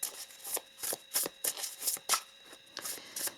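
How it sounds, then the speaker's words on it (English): Oracle cards being shuffled and pulled from a deck, a run of crisp riffling bursts repeating at a steady pace, close and fairly quiet with no talking. "let us also pull some other oracle cards for you."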